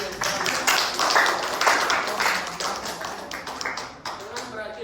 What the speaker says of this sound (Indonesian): Marilah kita beri tepuk tangan kepada kedua tim